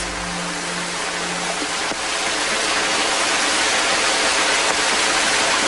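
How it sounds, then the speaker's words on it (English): Shiraito no Taki, a waterfall pouring from a cliff, gives a dense, constant rushing hiss of falling water, loud and close, with no voices. "Water gushing forth relentlessly from the cliff."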